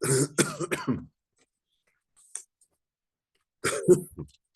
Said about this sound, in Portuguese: Desculpa pela minha tosse aqui.